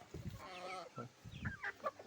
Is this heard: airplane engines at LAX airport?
no